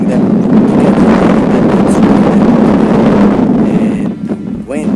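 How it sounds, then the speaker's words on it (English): Strong gusting wind buffets the microphone outdoors on a timber building site, a loud continuous low roar that dips briefly near the end while a voice speaks faintly underneath. "And the wind just picked up."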